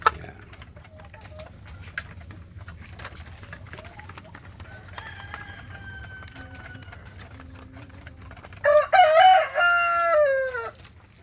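Free-range village chickens in a coop clucking softly under steady background noise, then a rooster crows loudly near the end, close and clear.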